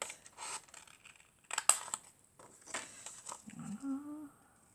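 Scissors snipping through fabric while cutting out a pair of overalls by hand, a few close crisp cuts with rustling cloth, then a brief hum near the end.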